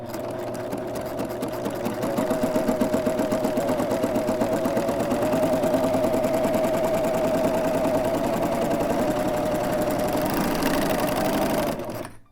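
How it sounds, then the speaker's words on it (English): A serger sews through a scrap of fabric with a loud, steady, fast mechanical whirring and rhythmic stitching chatter that runs close and alone for about eleven seconds before stopping. "Before I use my serger, I just run a scrap through to just make sure everything is set the way I want it to be set."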